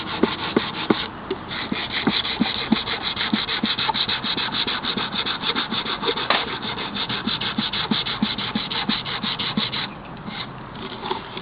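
Coarse sandpaper rubbing back and forth over a wooden surface during a vintage-style napkin decoupage finish, a steady, dense scratchy rasp with quick repeated strokes, close and continuous throughout.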